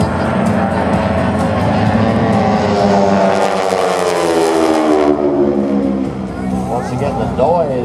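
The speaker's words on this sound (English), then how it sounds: "Noise from the airplane is from the propeller going almost supersonic." Propeller airplane roaring past at an air show, loud and close, its engine pitch sweeping down as it passes, with a voice talking over it.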